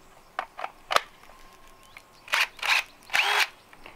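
Cordless power drill driving long 4-inch screws while taking apart a structure on an off-grid pole barn build: several short whirring bursts, the last few longer and louder, with no talking.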